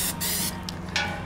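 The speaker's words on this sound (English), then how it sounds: "We're gonna give them a quick spray with some cooking oil, just so our pancake batter doesn't actually stick to this." Cooking oil sprayed from a can onto a griddle before pancakes, heard as a couple of short, close hissing bursts with a brief pause between them, no talking.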